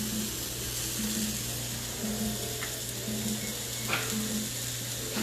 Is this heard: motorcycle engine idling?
no